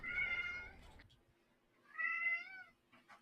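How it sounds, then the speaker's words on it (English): A house cat meows twice at close range, a drawn-out call followed by a shorter one after a pause, with a faint low hum underneath. "Cat."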